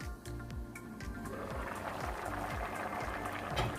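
Lotus root slices blanch in a pot of boiling water with vinegar, giving a steady, close, continuous bubbling and simmering sound with no voices.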